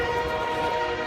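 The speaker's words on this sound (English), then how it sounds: "Train." A passing train sounds a sustained, tonal horn blast with rich stacked harmonics over a low rumble, loud and fairly close, running steadily through a brief moment without talk.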